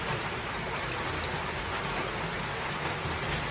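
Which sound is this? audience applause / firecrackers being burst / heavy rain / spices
heavy rain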